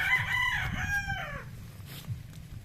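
A Sweater gamefowl rooster gives one loud, close crow with a drawn-out, wavering call. Softer clucks and farmyard noise follow.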